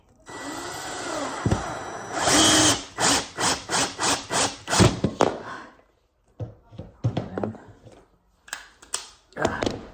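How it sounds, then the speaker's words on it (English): A power drill set at too high a speed whirs in a quick series of short bursts as screws are driven into wood, followed by a few scattered, sharper knocks. "The speed is too high. It was set up for drilling, not for using screws."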